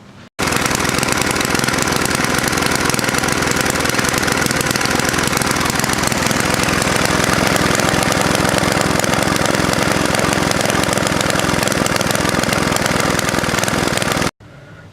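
A vintage, rusty snowblower engine runs steadily and loudly for about fourteen seconds with a rough, knocking mower-like putter, stopping abruptly at the end.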